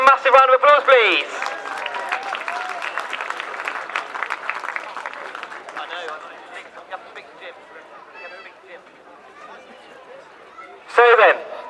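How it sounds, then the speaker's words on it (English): A speedway crowd at the Leicester round of the 2017 British Sidecar Speedway Championship gives riders a sustained burst of applause, dense and steady, with someone speaking over it at the start and end. "Give Paul and Terry a massive round of applause, please."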